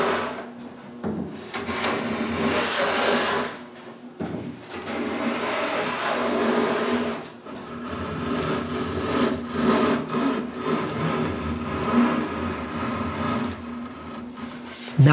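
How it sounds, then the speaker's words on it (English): Hand plane working a solid pine pantry on a workbench, repeated rasping strokes of shaving wood separated by short pauses, close and fairly loud. "I plane everything straight with each other."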